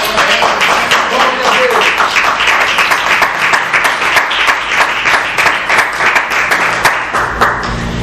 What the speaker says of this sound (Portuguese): Pode bater nas palmas para Jesus.